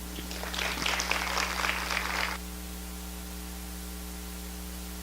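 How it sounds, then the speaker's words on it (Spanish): Audience applause welcoming a speaker to the stage, a brief burst of clapping from a crowd that fades out after about two seconds, leaving a steady electrical mains hum. "Por favor, reciban con un aplauso a Patti Lescano."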